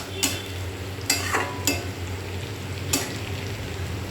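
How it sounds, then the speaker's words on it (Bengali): Chopped onions fry in a pan with a steady low sizzle, while a spoon scrapes and stirs in four sharp, separate strokes, close and with no talking. "প্রায় ভাজাটা হয়েই এসছে পেঁয়াজ, আর একটু লাল লাল ভাজা হলেই টমেটো কুচিটা দেবো।"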